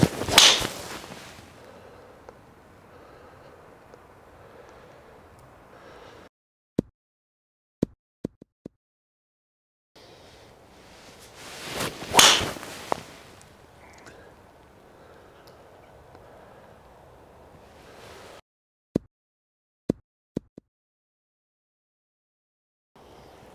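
Two sharp impacts of a Ping G430 golf driver striking balls, each a loud crisp crack followed by a fading whoosh, with a few faint clicks in between.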